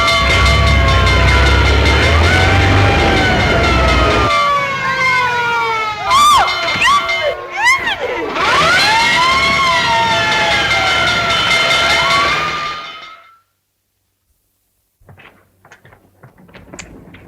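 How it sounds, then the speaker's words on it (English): A 1937 fire engine siren wails in long rising and falling sweeps during a ride, loud over a cheering crowd and shouting voices, then cuts off into near silence with faint scattered noises. "looks as if I finally get my ride on a fire engine"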